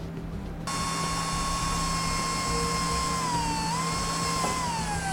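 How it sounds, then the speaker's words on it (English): Power drill boring small holes in a truck tailgate: after a brief hiss the motor whines up to a steady high pitch, holding close and loud with a slight dip as the bit bites. "Now we can drill it a little bit easier."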